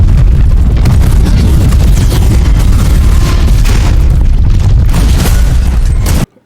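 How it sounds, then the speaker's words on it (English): A console explosion in a Star Trek episode is a loud, sustained rumbling blast with crackling bursts that fills about six seconds and then cuts off abruptly. "it is just an explosion in a console"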